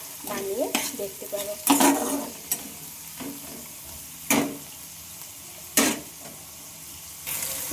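Onion and tomato frying in a pan for an egg dish, stirred with a utensil: loud scraping stirs in bursts over a low sizzle, close up, with a few sharp clanks and no speech.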